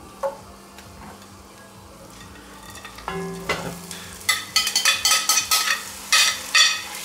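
Duck frying in old fat over the heat, with scattered clinks and stirring at first, then a louder crackling sizzle in dense bursts over the last few seconds, with no voices.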